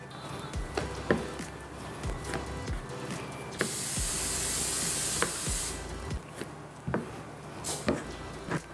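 A hissing burst of oil spray greases a bowl for bread dough, a sustained broadband hiss of about two seconds at mid-clip, surrounded by soft kitchen clatter and taps.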